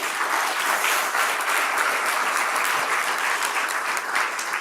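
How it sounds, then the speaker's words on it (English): A large audience applauds awardees at a plenary session of an astronomy conference, a full, even roar of clapping that holds steady for nearly five seconds. "I'd like first to have an applause to all our awardees."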